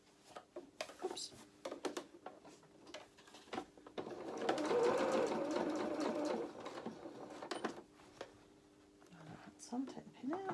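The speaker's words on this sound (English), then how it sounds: "And back to the sewing machine" A sewing machine stitches a doll's apron dress in a steady whirring run of several seconds, framed by small clicks and handling noises while someone talks quietly.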